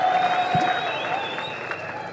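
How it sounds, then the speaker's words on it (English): An audience at a church plenary assembly gives brief, steady applause from a crowd, heard at moderate distance throughout the clip. "A round of applause for Archbishop Philip."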